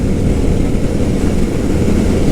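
An Indian FTR 1200 motorcycle with a 60-degree 1203cc V-twin engine being ridden, a loud steady engine roar mixed with wind rush and no pauses.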